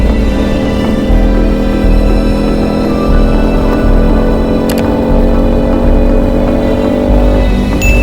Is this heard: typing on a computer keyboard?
no